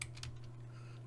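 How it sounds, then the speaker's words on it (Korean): Faint, quick clicks as Ctrl+Shift+M is pressed on a computer keyboard, a few light keystrokes over a steady low hum in a quiet room. "컨트롤 시프트 M 눌러주고"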